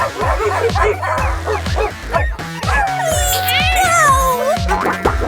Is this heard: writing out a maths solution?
no